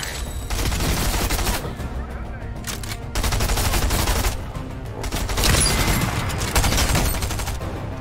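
Rapid gunfire bursts from a Fortnite match, dense overlapping volleys and automatic fire in loud clusters separated by short gaps, with a voice talking at moments over the action.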